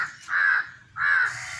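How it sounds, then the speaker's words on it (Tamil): A crow caws twice nearby, two clear, harsh calls about half a second apart, fairly loud over faint background noise. "காக்கா வந்துருச்சு பாரு சாப்பிட்றதுக்கு"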